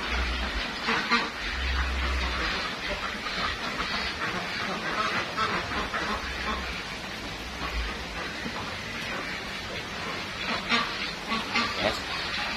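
Ducks honk and quack steadily in a duck pen, a dense, continuous chorus of many birds at close range with no clear pauses.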